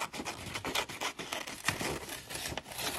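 Vintage magazine pages are trimmed up close, giving a run of papery rubbing and scratchy cutting sounds in uneven bursts with no voices.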